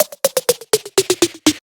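Quick programmed drum fill built in Logic, mixing accented hits with very quiet ghost notes in a tight, rapid pattern of about a dozen strokes lasting under two seconds, alone with no talk.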